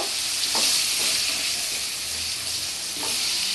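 Potato pieces frying in a pan crackle and hiss steadily up close, with a couple of soft spatula knocks breaking through the even sizzle.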